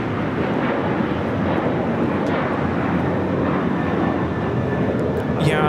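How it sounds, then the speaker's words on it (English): An Emirates Airbus A380 on short final at LAX produces a steady, loud, broad jet roar that holds evenly, with a faint rising whine near the end. "we have the Emirates A380"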